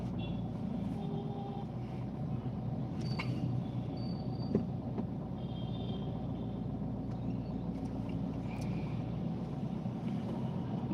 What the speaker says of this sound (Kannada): ಟ್ರೈನ್ ದಾಟಾಕತ್ತಿತ್ತ ಗಾಡಿ ನಿಂತಿದ್ದೆ